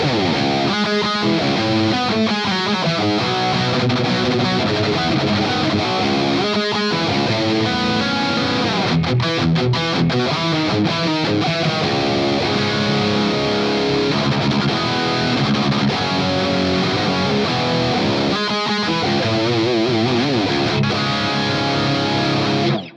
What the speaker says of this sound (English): And I've got this Dimension 3 chorus.